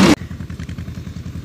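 A farm vehicle pulls away across a hayfield where hay is being formed into windrows for baling: a short loud burst, then a steady, rhythmic mid-pitched engine chugging close by.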